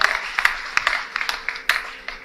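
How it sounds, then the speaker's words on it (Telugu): An audience at a Chaturmasya vrata deeksha gathering in Pithapuram gives a short burst of irregular, scattered hand claps with sharp, separate slaps that fade quickly. "గట్టిగా చప్పట్లు కొట్టండి ఒకసారి"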